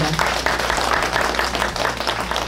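Dense, steady applause from an audience at a founding ceremony for a Korean digital-poetry association's ethnic-Korean-in-China branch, filling the whole stretch at close, even loudness with no pauses.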